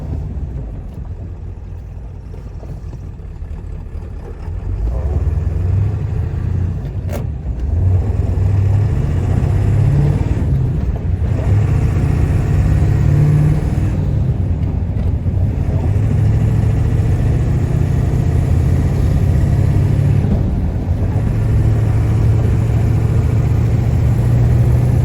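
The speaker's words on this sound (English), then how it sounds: "This truck's pretty fun to drive. 6-speed wiggle stick, no parking brake" Pickup truck with a 6-speed manual gearbox, engine idling low then pulling away and holding a steady droning rumble with mild rises in pitch as it cruises, heard from inside the cab.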